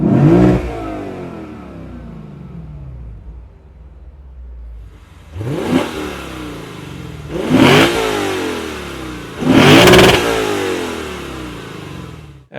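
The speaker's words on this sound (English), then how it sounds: "there was the high-revving V8 of the Lexus IS500" The high-revving V8 of a Lexus IS500 fires up in wet, rainy conditions and settles. It then roars through three separate rising revs, each louder than the last, with short lulls between them.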